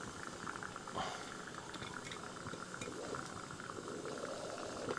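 Water boils in a pot on an alcohol stove, a steady, close bubbling hiss with soft rumble and faint crackles throughout.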